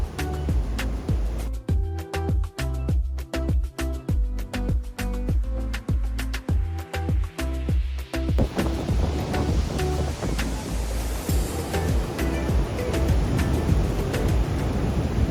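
Roaring water at the American Falls, part of Niagara Falls, heard as a broad, continuous rush that starts under a beat-driven music track and then takes over, growing fuller and louder.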